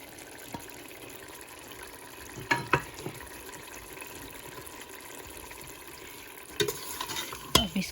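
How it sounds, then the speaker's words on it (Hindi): Boneless chicken with spices frying in a pot for pulao with peas, a steady soft sizzle broken by a few louder stirring scrapes and clanks of a spoon, close and alone. "अब इसको हिलाएंगे थोड़ी देर के लिए और भूनेंगे।"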